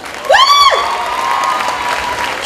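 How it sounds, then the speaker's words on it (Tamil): Crowd at a Star Night stage show in Denmark applauding and cheering, a loud whoop or whistle-like cry rising over steady clapping at the start, then a sustained wash of applause and crowd noise that stays fairly even to the end. "எங்கே உங்களுக்கு கரகோஷம்?"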